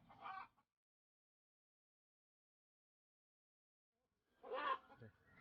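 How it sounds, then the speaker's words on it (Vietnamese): A hen clucks in a cold-season mountain village setting, two short throaty bursts separated by a long silence, fairly close and with nothing else around them. "có một con gà mái"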